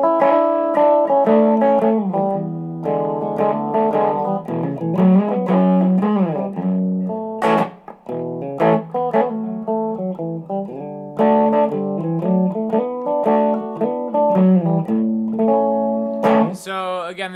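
A distorted electric guitar plays rhythm, mixing chord stabs, sliding double-stops and quick fills, loud and alone, with a few sharp pauses and a bright accent near the end.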